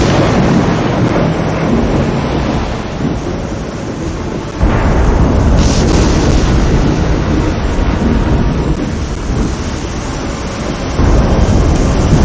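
A loud, continuous thunderstorm roars with heavy rain, deep rumbling thunder and a sharp lightning crack partway through, set in the intro of the video game Die Siedler II.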